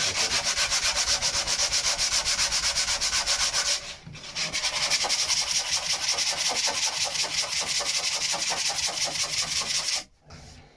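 Continuous abrasive sanding of paint, a steady rhythmic rasping scrub that runs almost the whole time with a brief pause midway, then stops near the end.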